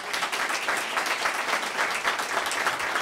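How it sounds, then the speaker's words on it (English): Steady, dense applause from an audience at a college event on urban music in higher education, many hands clapping close and loud without a break. "let's give him another hand of applause"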